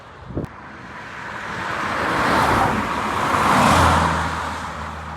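A BMW M3 approaches and drives past on a road, its engine noise swelling to a broad, loud whoosh and fading slightly, with a brief bump at the start and a low drone as it goes by.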